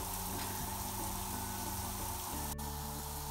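Shower water runs in a steady, dense hiss, with a low thud partway through and a brief click near the end.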